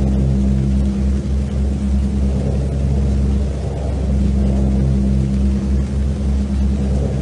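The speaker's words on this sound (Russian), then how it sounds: "там, кстати, чувак реально едет на машине" A car engine rumbles steadily, with a low drone that swells and eases slightly as the vehicle drives past.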